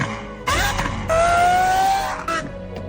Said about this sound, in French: Et voilà le nouvel échappement.